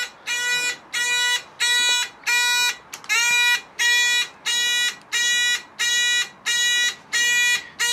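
A moped horn sounding in a steady run of about eleven loud, buzzy electric honks, evenly spaced roughly every half second, close and alone with no talk.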